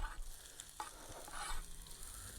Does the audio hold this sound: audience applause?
no